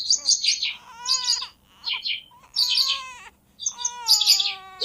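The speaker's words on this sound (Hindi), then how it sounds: "देखो बाहर कितनी रंग बिरंगी और खूबसूरत चिड़िया है" Outdoor birds chirping in an Indian city, bright repeated tweeting calls and trills in several close bursts with short pauses, clear and fairly loud with no talk over them.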